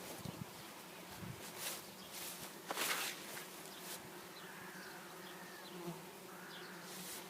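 Steady buzzing of many bees close by, a continuous insect hum with a few louder passes, no voices.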